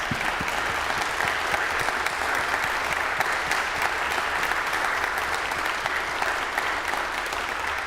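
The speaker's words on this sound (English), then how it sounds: "please give yourselves another round of applause" Audience at an organ recital in Greenville, South Carolina breaks into sustained applause, a dense wash of many hands clapping at steady loudness throughout, with no voices standing out.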